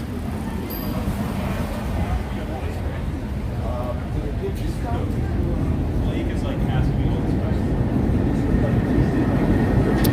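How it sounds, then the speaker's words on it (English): A New York City subway train runs below the street, making a steady low rumble that swells louder toward the end. Street ambience surrounds it, and a voice is heard nearby. "And you have the train right below us."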